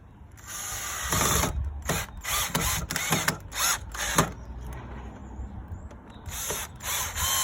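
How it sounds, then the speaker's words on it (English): A power drill drives screws into clamped boards for cinema room improvements, firing in repeated short bursts of whine and ratcheting clatter with brief pauses between them. "let's get these all screwed in"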